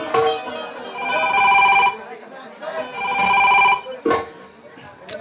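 A telephone bell rings in a village stage play, two long loud bursts of trilling rings separated by a pause, followed by a brief clatter near the end.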